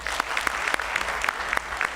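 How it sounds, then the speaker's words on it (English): An audience at a Diwali event applauds Priya, Neha and Anand with steady, moderately loud clapping and scattered sharper claps standing out from the crowd. "Priya, Neha, and Anand, give them a round of applause, please."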